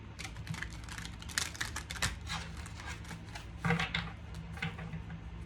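Tarot cards being shuffled, a continuous soft papery riffling and flicking with scattered louder clicks, close and steady, with no voices.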